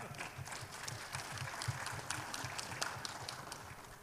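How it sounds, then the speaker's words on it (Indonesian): A lecture-hall audience at a speaking event gives quiet, fairly distant applause, a steady patter of hand claps that goes on for a few seconds without voices over it. "tidak usah terlalu keras, tepuk tangannya"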